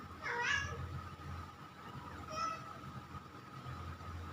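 A small black kitten meows twice, thin and high-pitched, a first cry near the start and a shorter one a couple of seconds later, heard under someone talking softly.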